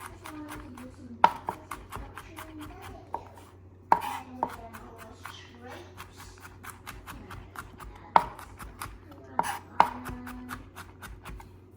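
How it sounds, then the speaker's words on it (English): Knife blade mincing beef on a cutting board, quick irregular chops with a few sharper knocks, close and steady over a low background hum. "mince it up, just run the knife through"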